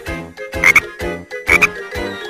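Frogs croak in a loud, close rhythmic series of about five deep, throaty calls, evenly spaced, with two of them carrying a higher chirping overtone, and no voices present.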